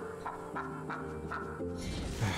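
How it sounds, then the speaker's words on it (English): A duck honking in the video game Lost Ember: a quick series of short, nasal quacks repeating over a steady musical background. "I guess I need this duck."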